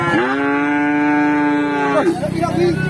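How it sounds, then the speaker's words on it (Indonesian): A single long, loud moo from an agitated cow holds steady for about two seconds, then breaks off into rougher background sounds and faint voices. "Waduh, sapi ini galak guys"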